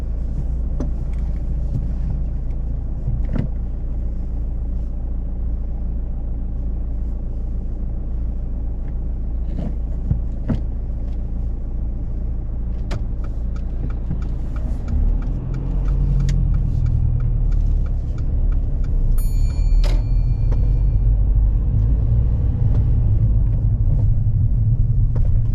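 A car pulls away during a driving lesson, giving a steady low engine rumble and road noise that swells slightly as it moves off, with no talk.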